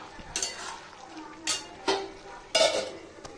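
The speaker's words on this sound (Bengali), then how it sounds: "এটাকে একটু ভালো করে নাড়াচাড়া করে 2 থেকে 3 মিনিট ফুটিয়ে নিয়ে নামিয়ে নেব।" Pickle curry (achar tarkari) with sugar is stirred in a pan: four separate scraping, clinking strokes of a spoon against metal, close by, over a quiet low simmer.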